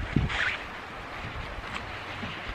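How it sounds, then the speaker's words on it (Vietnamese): Wind blows outdoors on a cold day and buffets the microphone, making a low rumbling gust with a sharp thump near the start, then steady breathy noise. "Có gió, trời đã lạnh nó còn gió nữa cả nhà ơi."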